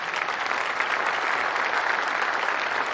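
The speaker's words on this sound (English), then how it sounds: "Can you applaud for Pastor Aaron?" A church congregation applauds at a Sunday service, a steady dense wash of clapping hands that holds evenly for the full three seconds with no voices over it.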